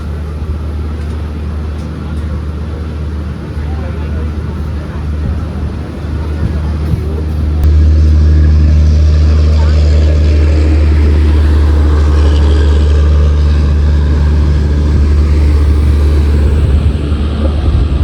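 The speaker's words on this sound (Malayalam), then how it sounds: "ലാലാഗുഡയുടെ ഒരു P7 ആണ് അതിനെ വലിക്കുന്നത് കേട്ടോ, വെങ്കടാദ്രി സൂപ്പർ ഫാസ്റ്റിനെ." A WAP-7 electric locomotive from the Lallaguda shed hauls the Venkatadri Superfast Express, a loud, steady rumble and roar that swells at the midpoint and holds close by to the end.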